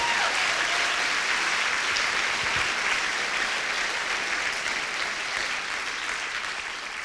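Church congregation gives a long, sustained round of applause, dense and even clapping filling the room, slowly tapering toward the end.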